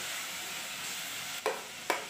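Masala being sautéed in a pan while making paneer masala, a soft steady sizzle with two sharp scraping stirs near the end.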